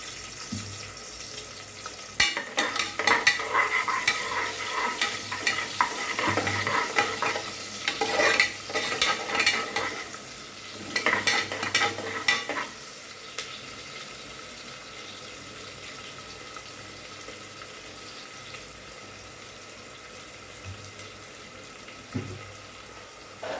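Chopped small shallots sautéing in a pan for mint rice, bursts of close sizzling and stirring scrapes over the first half, then a quieter low hiss with an occasional clink, no voices.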